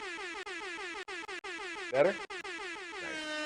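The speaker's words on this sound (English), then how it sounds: "so the air horn's working" Loud air horn blasts in a rapid stuttering series, then one long sustained blare; a voice speaks briefly in the middle.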